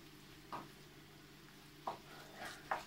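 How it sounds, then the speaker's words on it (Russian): Tomato paste being stirred into a mixture for lazy cabbage rolls, heard as a few faint, soft scraping and squishing strokes of a spoon against a pan, spaced irregularly over a quiet background. "Берем вот столько томатной пасты и перемешиваем"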